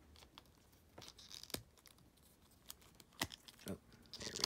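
Soft rubbery rustling and brief crinkly scrapes as a flexible rubber vest is pulled off a Macho Man Randy Savage action figure, quiet and close, with a few sharper peeling snaps near the end.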